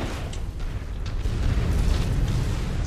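A deep, rumbling explosion from the mech combat game BattleTech, a sustained low roar that swells louder toward the end, with no talk over it.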